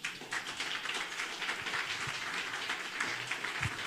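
Guests at a ceremony for the Free Republic of Liberland in Novi Sad applaud. The clapping is fairly quiet and distant, a steady patter of many hands with no voices over it.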